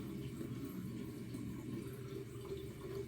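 A tap runs water for shaving, a steady, soft, low rush of flow that holds evenly throughout with no talk.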